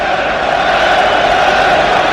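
Stadium crowd at a USA vs Wales football match, a dense roaring wall of voices sustained throughout as the crowd is urged to turn the volume up, loud and continuous with no single voice standing out.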